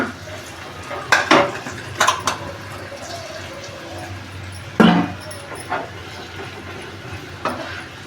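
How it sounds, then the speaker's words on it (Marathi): A utensil stirs and scrapes leftover chapati pieces with spices in a pan, giving several sharp metallic clatters at irregular intervals over a low steady background, with no talking. "आता आपण चांगले चपात्या अशा तुकडे ते चांगले सवतळून घेऊया मिक्स करून घेऊ"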